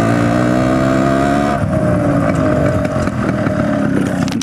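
A Yamaha RX135 two-stroke motorcycle fitted with a louder aftermarket exhaust, its engine running loud and close with a buzzy, harmonic drone that shifts pitch partway through as the revs change, no talking.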